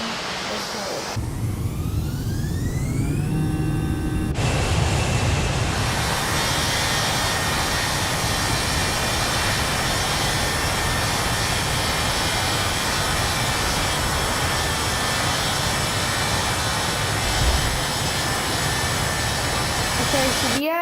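Simulated jet engines of an Airbus A318 roar steadily on an aircraft carrier in a video game. Rising whine tones build early, then a loud, constant roar holds for the rest of the clip.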